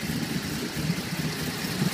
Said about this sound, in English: Quite a lumpy idle on this particular car.